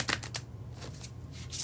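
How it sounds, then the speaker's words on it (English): A tarot card deck gets a bridge shuffle, giving crisp rapid riffling bursts at close range that settle into a softer cascade, with no talking. "when I do the bridge shuffle"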